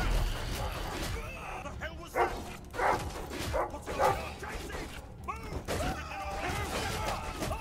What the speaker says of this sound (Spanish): ¡Ah, me viene un perro ahora!